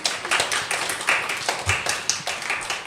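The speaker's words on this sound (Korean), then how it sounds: "축하한다고 우리 원우한테 전달될 정도로 크게 박수로 축하한다" A group claps together in a church youth service to celebrate a member's birthday, a steady run of fairly close, even handclaps lasting the whole moment with no talk.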